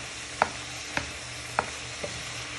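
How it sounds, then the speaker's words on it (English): Chicken and spring onions being stirred in a pan for Chinese chicken lettuce rolls, with four soft, evenly spaced scraping strokes over a faint, steady sizzle, fairly quiet and with no voices. "So you're just giving this a little bit of a stir for a minute or two."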